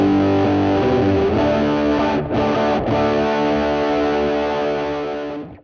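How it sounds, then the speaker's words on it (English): An electric guitar plays through a DIY RAT distortion pedal with its clean blend turned toward the effect, a thick sustained distorted chord ringing with a brief break midway before fading out. "We get a lot more of that distortion tone, but the bottom end is still nice and smooth from our clean signal."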